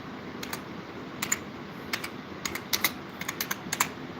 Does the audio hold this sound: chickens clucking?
no